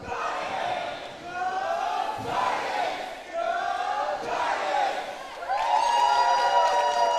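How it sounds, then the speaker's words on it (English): Crowd cheering at a girls' varsity volleyball championship game indoors, sustained shouts and whoops rising in waves over about seven seconds and swelling louder near the end. "A little bit of cheering going on."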